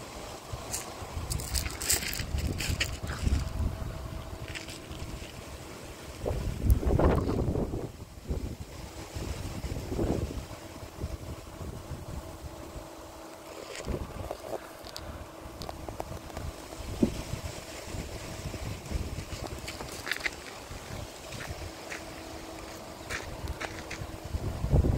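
Gusty outdoor wind blowing around a boat on open water, rumbling and buffeting the microphone in uneven surges, with a stronger gust partway through and faint water wash underneath.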